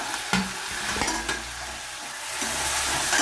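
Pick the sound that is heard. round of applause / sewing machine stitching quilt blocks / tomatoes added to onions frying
tomatoes added to onions frying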